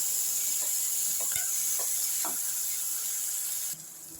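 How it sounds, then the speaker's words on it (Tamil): Onion and tomato sauteing in a pan for a green peas masala with curry leaves, a steady bright hiss of frying with a few soft stirring scrapes, dropping in level near the end, no talk. "வெங்காயம் தக்காளி நல்லா வதங்கட்டும்."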